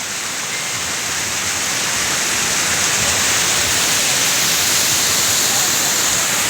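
A waterfall pours in a steady, loud, close rush of broadband water noise, unbroken from start to finish with no clear voices over it.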